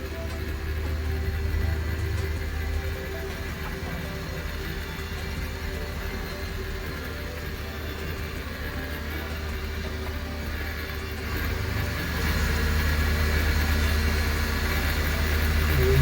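A concrete pump runs steadily at a road bridge construction site, a continuous low engine drone that swells slightly louder toward the end, heard from a moderate distance.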